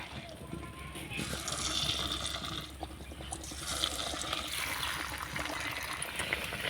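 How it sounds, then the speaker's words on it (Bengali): Batter-coated snacks frying in medium-hot oil produce a continuous, watery crackling hiss that swells and eases slightly, with a voice talking faintly over it. "তেলটা আমি মিডিয়াম গরম করে নিয়েছি এবার নাস্তাগুলোকে ভেজে নেব"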